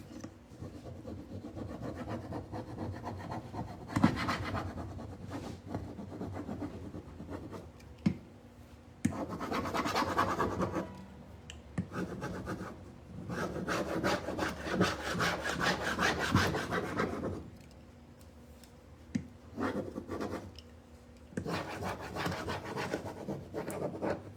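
Repeated scrubbing and rubbing strokes as a transfer is burnished onto a wood surface, close dry scratchy passes in bursts with short pauses between, no talking.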